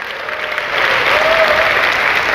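A seminar audience bursts into applause, a dense steady wash of many hands clapping that swells slightly louder partway through and continues alone without talk.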